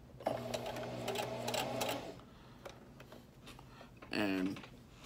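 A sewing machine stitches a zipper into a garment, running steadily for about two seconds before stopping, then giving a short whirring burst near the end; the machine is close and moderately loud.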